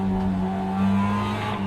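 A race car engine in the iRacing sim racing game, loud and close, holds a steady high drone, then its pitch shifts around an upshift into third gear and settles again, with no talk.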